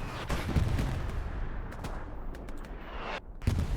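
Aircraft strafing run in the Hell Let Loose war game, a loud rattle of rapid gunfire with booming impacts that ends in sharp bursts.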